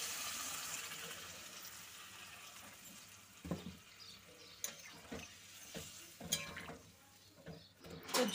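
Water poured into a pan of fried spice paste for a rohu fish curry with potatoes, faint splashing and trickling that comes in several uneven bursts of pouring and clatter, quiet and close, with no talking.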